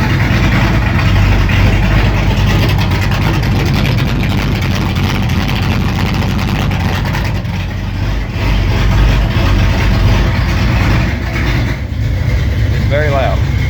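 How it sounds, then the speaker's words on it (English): Dodge D150 truck with a swapped Magnum engine idles with its exhaust cutout open, a loud, steady low rumble filling the whole stretch without letup, close to the tailpipe. "the exhaust. This is where the cutout's open."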